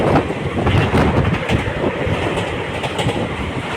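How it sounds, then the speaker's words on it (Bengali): A train runs alongside the Bhagirathi (Hooghly) river near Samudragarh, its steady close rumble and rattling wheels filling the whole stretch without pause or voices. "একদম এই ভাগীরথীর গা বেয়ে ট্রেন ছুটে চলেছে"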